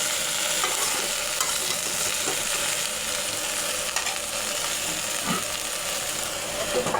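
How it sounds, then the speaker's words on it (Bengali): Cut potatoes and cauliflower fry in hot oil, giving a steady, close sizzle and crackle with occasional stirring scrapes throughout, no voices. "ওই তেলে কেটে রাখা আলু আর কপি দিয়ে দেব। আলু কপি ভালো করে ভেজে নেব।"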